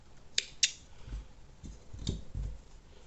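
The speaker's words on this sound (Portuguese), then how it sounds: "Pode arrematar mais uma vez, aperta, já pode cortar a linha" Scissors snip through crochet yarn while finishing a small crocheted bag, giving two sharp, close clicks near the start and then soft handling noises, with no speech.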